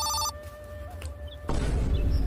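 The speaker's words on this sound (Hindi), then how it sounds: "जरूर का साहेब क्यों फोन आवत है" A telephone rings with a bright electronic tone that breaks off abruptly, followed by a soft hum and then a rise in broadband background noise.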